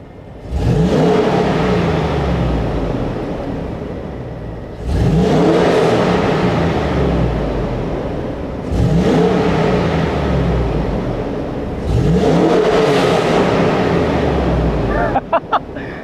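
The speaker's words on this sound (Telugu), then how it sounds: "So now I'm giving the exhaust. వినండి" A Hummer H2 SUV's exhaust is revved three times up close, each rev swelling into a loud roar that falls away slowly, followed by a few short clicks at the end.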